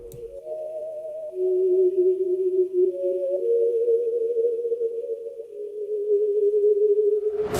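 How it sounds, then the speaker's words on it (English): Theremin-style lead synth from the Omnisphere preset Theremin's Journey, a smooth gliding tone with gentle vibrato that sustains steadily for several seconds and then cuts off with a short burst at the end. "this particular sound was gotten from the Omnisphere plugin, and we are using a preset called the Theremin's Journey"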